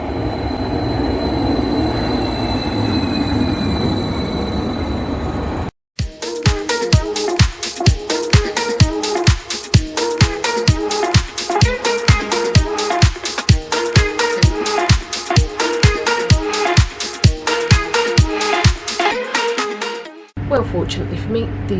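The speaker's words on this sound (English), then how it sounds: "Ooh, here comes the train." A passenger train, class 755, rolls into a station on the Breckland Line with a steady, rapid rhythm of wheel clatter over rail joints, loud and close, preceded by a rumbling platform ambience.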